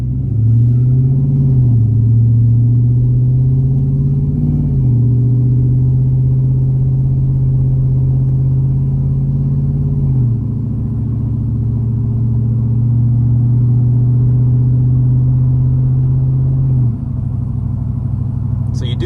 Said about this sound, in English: So you do have that like header sound, or that could be possible exhaust leak.